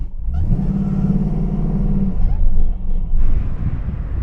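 A Mazda RX-8 with an LS V8 swap and new exhaust rumbles loudly up close, a deep steady engine drone that swells and dips as the car moves, with a brief lull before the engine note picks up again.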